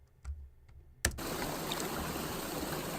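Loud, steady rush of a pool waterfall starting abruptly after a second of near quiet and then continuing unbroken as a dense, close wash of falling water.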